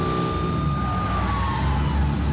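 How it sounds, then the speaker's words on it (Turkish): Police car siren on a Renault Clio in an Android driving simulator game, a steady electronic wail running continuously over loud engine and road rumble. "Sirenleri kapattım arkadaşlar."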